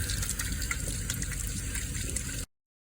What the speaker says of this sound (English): You can crush it a little bit more, flush it, and it gets just about all the sediment out of there.